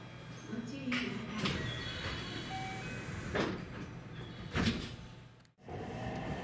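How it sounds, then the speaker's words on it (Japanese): A Hanwa Line rapid service train pulls out of Tennoji station, heard from inside the car: a steady motor and rail rumble with several sharp clattering bursts over rail joints and a brief dropout near the end. "では天王寺を発車です。"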